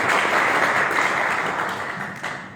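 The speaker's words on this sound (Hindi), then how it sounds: "जोरदार ताली हमें देश के लिए" Loud, sustained applause from a large audience at a live anniversary celebration in Bangkok, dense and steady throughout before easing slightly near the end.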